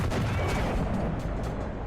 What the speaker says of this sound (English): Second shot kills him through the lower plate